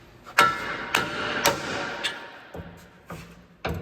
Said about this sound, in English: there is a tool that you should have to use to separate this ball joint, but I'm just gonna use a hammer